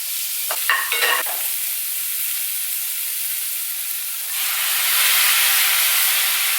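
String beans sizzle in butter over low heat, a steady close frying hiss with a few clattering stirs near the start, then the sizzle swells louder and brighter for the last couple of seconds.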